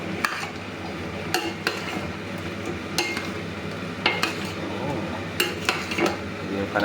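Chicken curry stirred in a pan with curry powder, a spoon scraping and clinking against the metal in irregular bursts over a steady low sizzle, fairly close.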